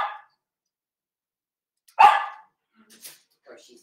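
A dog in a bedroom gives a couple of short, sharp barks separated by quiet pauses, with a few fainter sounds trailing afterward.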